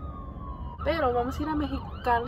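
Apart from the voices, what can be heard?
ambulance siren passing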